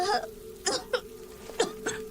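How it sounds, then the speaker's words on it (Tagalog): An elderly woman coughs in a few short, soft bursts spaced apart, faint and close, with a low steady hum beneath. "Kanina ko pa po napapansin ang ubo ninyo."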